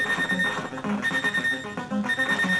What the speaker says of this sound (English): that horrible beep.